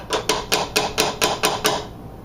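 A mixer paddle rapped against a bowl rim to knock excess fudge cookie dough off, seven sharp, evenly spaced knocks in quick succession, close and loud with no talking.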